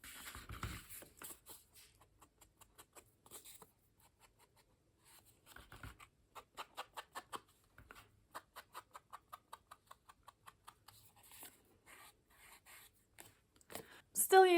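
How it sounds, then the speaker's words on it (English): Paper edges and a fold are rubbed with an aged mahogany ink pad for a junk journal, giving soft, rapid dabbing and scratching strokes close up, quiet with pauses between runs. "I'm gonna ink the edges, so I'm gonna go all around and also this fold."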